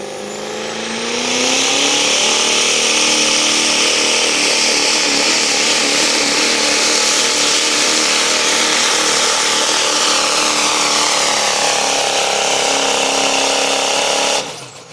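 A Chevrolet Duramax pickup truck roars down the track at a tractor pull, its engine loud and sustained with a rising, straining drone and dense rumble that holds steady for most of the run before cutting off abruptly.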